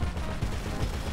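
Gunfire during a Diamond Casino heist mission in GTA Online, a dense, loud continuous barrage of shots and noise with no clear gaps.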